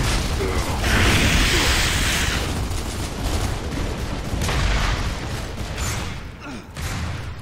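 Loud, dense gunfire and clanking weapon mechanisms in Gears of War 3 form a continuous barrage of rapid shots and booms, close and overpowering throughout.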